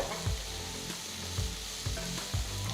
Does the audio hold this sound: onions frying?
yes